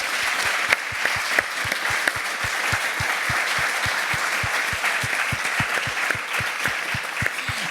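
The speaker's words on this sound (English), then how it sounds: "Can you give them all a round of applause?" Steady applause from an audience, many hands clapping continuously at an even pace, filling the space without voices.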